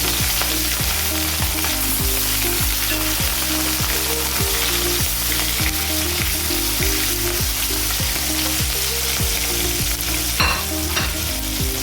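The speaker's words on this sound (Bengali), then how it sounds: "তেলটা হয়ে গেছে তো আমি এখন মাছগুলো দিয়ে ভেজে নেব" Rohu fish sizzles steadily in hot oil in a pan, a constant loud frying hiss broken by regular rhythmic pulses as the pieces are stirred or turned.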